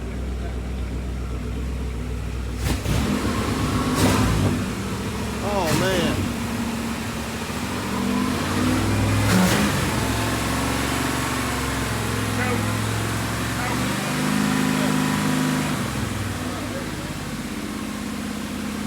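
A 1964 Chevrolet Impala engine running steadily at idle with a few blips of revving, heard close in a shop while someone talks over it.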